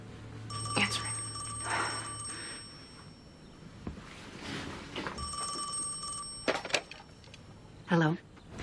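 A telephone rings in bursts inside a quiet room, its bell trilling twice with a pause between rings while people speak over and between them.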